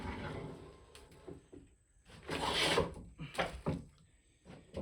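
A hand plane shaves green, freshly sawn raw red oak in a few quiet, uneven rasping strokes separated by pauses. The strokes are soft and close, with one fuller swipe in the middle and no talking.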